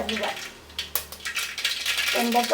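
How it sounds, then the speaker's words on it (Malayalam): Mustard seeds crackle in hot coconut oil in a pan, giving off a close, busy stream of sharp pops and ticks that comes in bursts. "കടുക് പൊട്ടിക്കാം നമുക്ക്"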